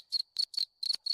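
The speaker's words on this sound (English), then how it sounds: "There's a cricket" A cricket chirping sound effect played from a Discord soundboard: five crisp, high-pitched chirp bursts in quick, regular succession, close and clear, against silence.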